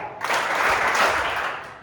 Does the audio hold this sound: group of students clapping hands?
yes